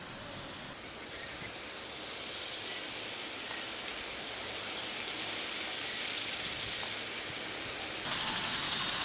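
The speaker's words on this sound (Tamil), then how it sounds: "நம்ம இந்த பரத்தி வச்சிருக்க இந்த மாவை நம்ம இதில் போட்டு பொரிச்சு எடுத்துக்கலாம்" Pieces of dough for Indian diamond-cut biscuits deep-fry in hot oil, giving a continuous dense hiss and fizz that holds steady and grows slightly brighter toward the end, with no voices.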